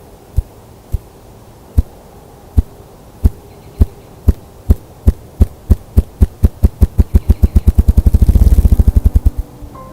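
A ruffed grouse drumming in a mountain forest: low, hollow thumps beginning slow and widely spaced, then speeding up into a rapid accelerating roll that swells and fades, loud and close with no talk.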